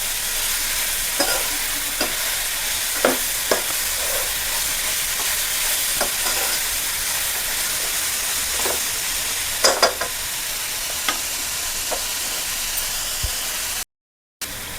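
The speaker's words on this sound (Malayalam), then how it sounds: "ക്യാരറ്റ് ഒന്ന് ആഡ് ചെയ്ത് നമുക്കൊന്ന് നന്നായിട്ട് മിക്സ് ചെയ്ത് കൊടുക്കാം." Carrots stirred into noodle vegetables in a frying pan, a steady sizzling hiss with repeated light spatula scrapes and taps, close, with a brief silent break near the end.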